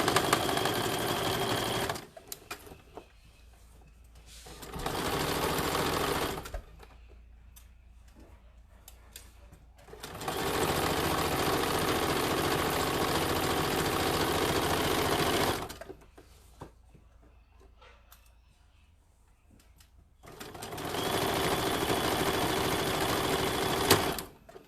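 A sewing machine stitches a tote bag seam in three sustained runs with short quiet pauses between them, its steady rapid mechanical whir close and clear with no talking.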